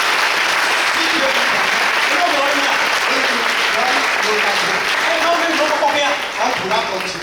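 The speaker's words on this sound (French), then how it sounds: "Si tu es dans la véritable famille, acclame très fort." A church congregation applauds and cheers loudly in a sustained, dense burst of clapping with voices mixed in, fading slightly at the end.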